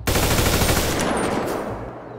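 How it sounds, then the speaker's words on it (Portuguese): Rapid automatic gunfire in the GTA RP video game, a loud close burst of densely packed shots starting abruptly and rattling continuously before easing slightly toward the end, with no voices over it. "Deram um tiro aqui."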